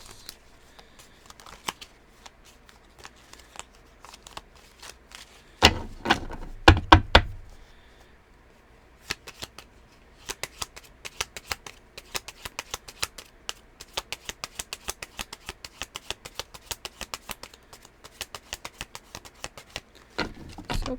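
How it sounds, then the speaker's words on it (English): A deck of cards is shuffled loosely by hand, giving bursts of rapid riffling flutter and quick papery flicks separated by short quiet gaps, close and soft, with no one talking. "I'm just going to shuffle these loosely right here like this."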